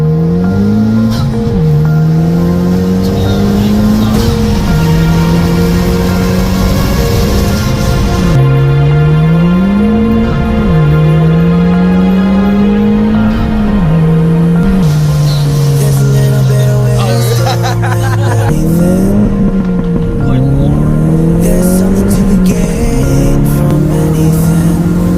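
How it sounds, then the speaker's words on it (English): Honda Civic Type R accelerating hard under full throttle, engine note climbing through repeated gear-change cycles, loud and close from inside the cabin, steady and continuous. "I'm driving a Type R, check it out."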